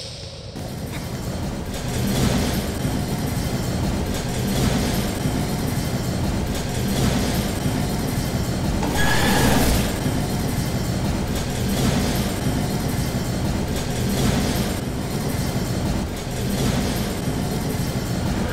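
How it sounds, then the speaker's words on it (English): A train in a Roblox horror game rumbles on continuously for a long stretch, a steady loud mechanical roar with a few swells and faint clattering, no one talking over it. "The train."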